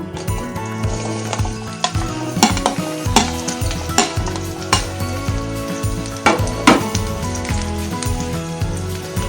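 Onions frying on high flame in a pan for fried rice: a loud, steady sizzle broken by rhythmic scraping stirs and occasional clanks of the spatula against the pan.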